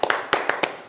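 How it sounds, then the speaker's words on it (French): Hands clap in a sharp, close, slightly uneven rhythm, about half a dozen distinct claps in quick succession, celebrating boxer Youssou Doumbia at a boxing event. "ça mérite des applaudissements"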